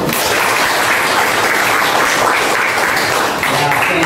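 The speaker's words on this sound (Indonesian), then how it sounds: "Tepuk tangan dulu." Applause fills a classroom during a geography lesson, a dense wash of clapping sustained for about four seconds, with speech mixed in underneath.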